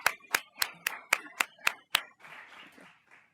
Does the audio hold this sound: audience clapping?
yes